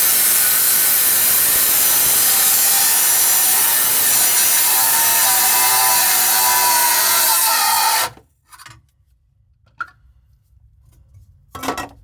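Abrasive rubbing on copper pipe beneath a sink, a steady dense scraping that runs loud and continuous for about eight seconds, then stops abruptly, leaving near silence with a couple of faint knocks.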